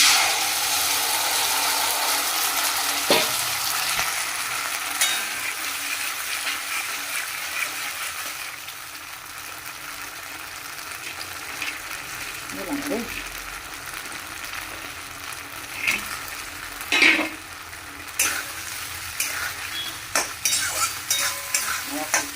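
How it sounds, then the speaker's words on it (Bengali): Fried batter being stirred in a pan with salt and sugar, a continuous close sizzle broken by repeated scraping and clattering of the spatula, with a few brief spoken words. "নুন মিষ্টি দিয়ে নাড়িয়ে চাড়িয়ে নামিয়ে দেবো"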